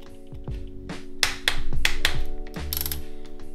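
A torque wrench tightening forged-piston connecting rod bolts on a Volvo V70R five-cylinder engine, giving a quick run of crisp ratchet clicks followed by a few sharper clicks close up, with no talking.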